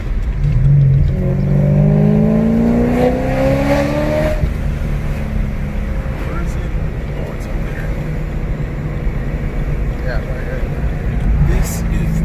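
A supercharged BMW E92 M3 V8 rises in pitch under throttle from inside the cabin, a loud droning climb that cuts off abruptly and settles into steady road and engine noise while occupants talk over it.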